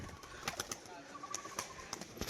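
A male tumbler pigeon flaps its wings as it tumbles, making a faint, irregular series of sharp wing claps, with light bird sounds in the background.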